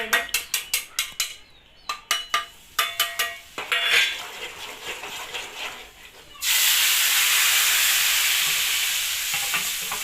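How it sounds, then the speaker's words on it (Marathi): Ground homemade garam masala going into hot oil for a pea and potato curry: a run of sharp, rhythmic spoon-on-pan clatters, then a loud, steady sizzle that takes over and holds to the end. "आता मी सगळा मसाला त्याच्यामध्ये टाकलेला आहे मिक्सर मधून ग्राइंड केलेला आता याला छान असं फ्राय करून देते मी"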